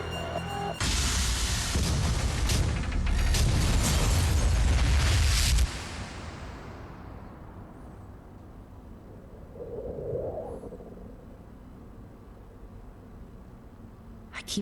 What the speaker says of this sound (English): Warning, reactor detonation imminent.